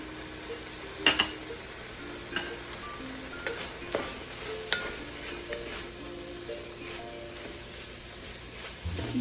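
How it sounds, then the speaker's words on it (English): Homemade chili simmering in a pot, with a soft continuous sizzle and occasional light scrapes and clinks of a spoon stirring, fairly quiet and close. "I'm just going to cook this down for about a minute or so"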